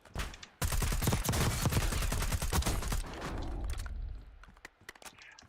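Sustained automatic gunfire from a Warzone battle, a loud dense burst of rapid shots lasting a few seconds, then tapering into scattered single cracks.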